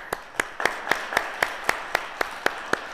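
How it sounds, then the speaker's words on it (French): Steady rhythmic hand clapping in unison at a gathering, about a dozen sharp, evenly spaced claps at a brisk beat, fairly close and alone without talk. "Une bonne main d'applaudissements."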